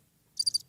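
Cricket chirps used as a comedic silence gag: three quick, bright chirps in a tight burst, clear and alone over a faint low hum.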